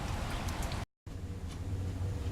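Rain falling outside as a steady, dense hiss with a low rumble underneath, briefly cut to silence partway before continuing, with no voices.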